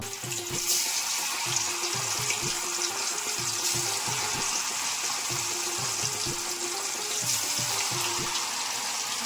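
Anchovies sizzle in hot oil in a pan, giving a steady hissing fry throughout, with a faint rhythmic background pattern beneath the crackle.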